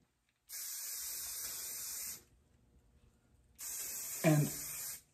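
Aerosol spray hissing onto the hair of a latex Frankenstein monster mask in two steady bursts separated by a pause, close and fairly quiet, with a brief knock during the second burst.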